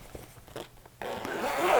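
A zipper pulled along the outer zip pocket of a newly sewn bag, a short close rasp that starts faint and then grows into a louder, steady scratching run.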